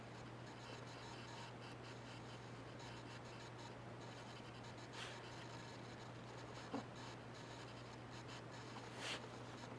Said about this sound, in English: I would go in with my micron pen and draw in the lines.